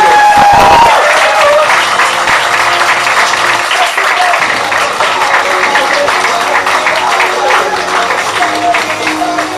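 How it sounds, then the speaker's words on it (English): An audience at a comedy showcase in Warsaw applauds a comedian as he is introduced, with dense, loud clapping that tails off slowly over several seconds. Brief voices are heard beneath it. "give him a very, very big round of applause"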